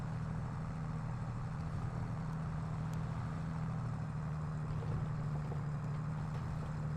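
A Landini tractor in Farming Simulator 22 plows uphill in fifth gear, its game engine giving a constant low droning hum with no change in pitch, steady and moderately quiet throughout.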